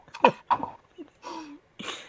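A few short, sharp sneezes of breathy noise close to the mic, separated by brief pauses.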